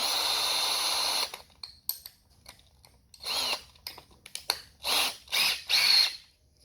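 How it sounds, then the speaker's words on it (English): Power drill fitted with a small bit bores into a medieval practice arrowhead blunt, a steady whine first, then several short bursts of drilling separated by quiet gaps, fairly close and moderate in level. "with a small drill bit, and then I will set you guys down quickly and just change up my drill bit"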